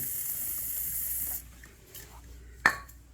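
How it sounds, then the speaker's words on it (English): A short, sharp hiss of spray lube hitting a Kawasaki Ninja 400 motorcycle chain, one brief burst late on after a steadier hissing wash at the start, close by with no talk. "Give it another spray down."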